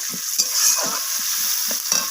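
Onions frying in mustard oil in a home kitchen, a continuous sizzle with a rhythmic series of soft scraping stirs close by, with no talking.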